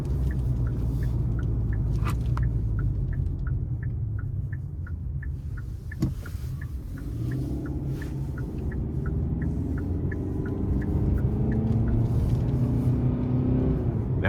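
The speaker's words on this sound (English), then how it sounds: "Now it does tend to rev a little hot" A 2023 Hyundai Santa Cruz with a naturally aspirated four-cylinder engine hums and climbs in revs while driving uphill, a moderate steady drone with a faint repeating tick over it.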